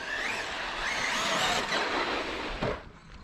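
A Traxxas E-Revo 2 electric RC car with its stock motor accelerates out of a turn, a rising whine that sweeps up and fades at moderate distance.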